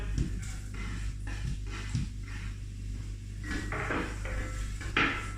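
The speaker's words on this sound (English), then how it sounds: "Just adding the onions, giving it a light stir." Onions go into warm oil in a pot for hot and sour soup and get a light stir, producing intermittent clinks and knocks of a utensil against the pot over a low steady hum.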